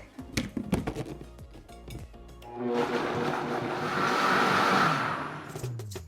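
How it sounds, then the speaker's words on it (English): A few knocks and clinks, then a blender starts blending salsa, whirring loudly and steadily for several seconds with its pitch swelling and easing as it blends. "Cover and blend until completely smooth."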